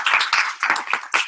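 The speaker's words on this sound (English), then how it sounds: "give a round of applause for our amazing MC, James Shelby." Audience clapping for an emcee at a supervisor training event, a short burst of dense, irregular hand claps from a crowd indoors, loud and close.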